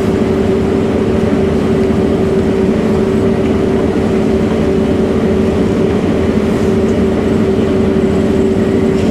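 Combine harvester threshing dry rapeseed in a field, a steady loud engine-and-machinery drone with a constant hum running the whole time, no voices.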